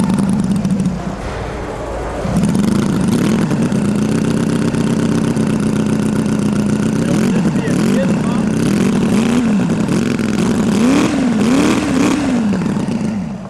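A homemade flathead V8 built from a rough casting set, modeled on LaSalle and Cadillac flatheads, cranks briefly and then fires, settling into a steady close idle with repeated revs rising and falling while people talk over it.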